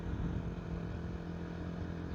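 A 2009 Honda CBR125R single-cylinder engine hums steadily while riding, a low droning tone held evenly and fairly quietly with no talk.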